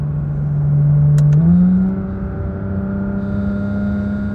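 Loud Porsche 911 GT3 RS engine revving up under acceleration, with a quick pitch drop at a gear change and then a steady, droning pull, heard from inside the car with no talking.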